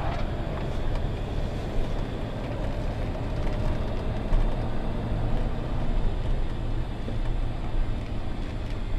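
A 1995 Dodge Ram 1500 SLT Laramie RWD pickup being driven at low speed around a lot, giving a steady engine drone and road rumble with no talking.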